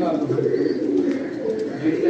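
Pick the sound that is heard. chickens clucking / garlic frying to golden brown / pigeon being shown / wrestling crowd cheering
pigeon being shown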